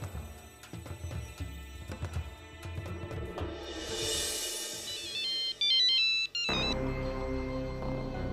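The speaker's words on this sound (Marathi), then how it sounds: "फोन वाजते, उचला की." A mobile phone's melodic electronic ringtone rises in a fast chirping run and then rings on steadily and loudly, following a stretch of background music.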